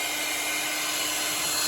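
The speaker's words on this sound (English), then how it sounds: "Can't really hear me talking on it because of the hair dryer." A hair dryer blows on a freshly painted pinewood derby truck, a loud, steady, close whirring hiss that fills the whole stretch without a break.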